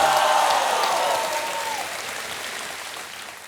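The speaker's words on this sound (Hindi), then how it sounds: "जरा जोरदार ताली बजा" Studio audience applause on the quiz show Kaun Banega Crorepati, a loud burst of clapping that gradually fades over a few seconds.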